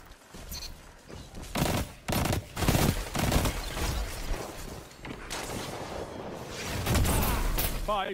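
Rapid bursts of gunfire in Destiny 2 during a Recluse weapon quest, volleys and single shots crackling in repeated clusters, close and fairly loud, with game sounds throughout.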